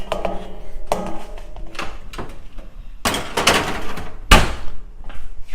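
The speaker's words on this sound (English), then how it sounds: "All right, let's toss it in the oven." An oven door clunks open and shut as a cauliflower-crust pizza base goes in to bake, with a few close, sharp knocks and clatters of the door and tray in a home kitchen.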